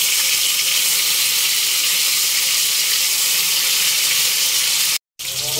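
Rui fish sizzling in hot oil in a pan, a loud steady hiss of frying that runs on without a break, with only a brief cut near the end and no voices.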